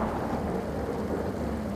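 Heavy rain pouring steadily with deep thunder rumbling beneath, a dense, continuous storm wash at constant loudness with no voices.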